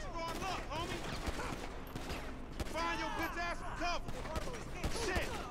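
Gunfire in Grand Theft Auto V during a gunfight, a rapid spatter of shots running under continuous excited voices and game sound throughout.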